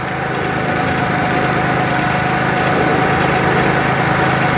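A GY6 150cc scooter engine running at a steady idle, loud and close, with an even buzzing drone and faint knocking vibration that holds unchanged for several seconds, no talking.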